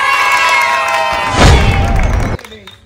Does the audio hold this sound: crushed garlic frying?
no